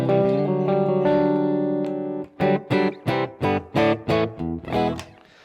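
A clean electric guitar plays sustained chords through a Blackstar AMPED 1 100-watt power amp pedal, then a run of short, evenly spaced strummed stabs, clear and close with a bright amplified tone.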